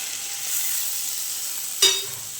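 Vegetables fry with turmeric, chilli and salt in mustard oil, giving a steady hiss of sizzling, then a single sharp scrape or clatter near the middle before the sizzle carries on alone.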